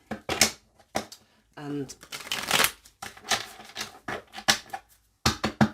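Tarot or oracle cards are shuffled in quick riffling bursts, with a short spoken word and a few brief voice sounds between the shuffles.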